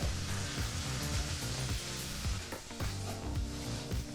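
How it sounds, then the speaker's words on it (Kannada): Chopped tomato and onion frying together in a pan on a low flame for a moong dal curry, a soft steady sizzle broken by scraping stirs, close and fairly quiet, with no talking. "ಟೊಮೊಟೊ ಹಣ್ಣನ್ನು ಈರುಳ್ಳಿ ಜೊತೆ ಸೇರಿಸಿ ಒಂದು ನಿಮಿಷ ಫ್ರೈ ಮಾಡಿಕೊಂಡ್ರೆ ಸಾಕಾಗುತ್ತೆ"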